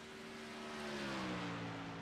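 Race car engines from a NASCAR Xfinity sim racing game at Darlington, a steady droning whine with a slowly falling pitch as a car passes, fairly close and continuous with no talk.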